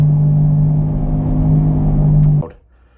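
A loud, steady mechanical whirring hum with a strong low drone from a spinning, noisy Dodge 1500 pickup truck front wheel bearing runs continuously, then cuts off abruptly near the end.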